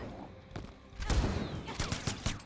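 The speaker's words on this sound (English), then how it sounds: "All these gunshots twice in a row." Mortal Kombat gunfire during a tournament match, a couple of separate shots followed by a louder rapid flurry of cracks, under excited crowd noise and game effects.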